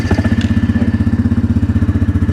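An old motorcycle engine idles close by, its steady loping thump repeating in an even rhythm with a faint mechanical clatter on top, running alone without talk.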